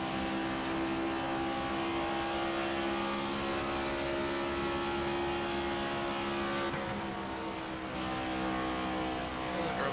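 NASCAR race car engine in the video game NASCAR 25, a sustained loud droning roar with steady harmonics as the car is driven hard through a corner on new tires, a brief dip in pitch near the end, no speech over it.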